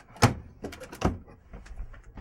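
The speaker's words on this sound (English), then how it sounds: "The back door needs to be locked" A back door being shut and locked, with a solid thunk, another knock and the rattle of the latch and lock, all close by, followed by quieter handling noises.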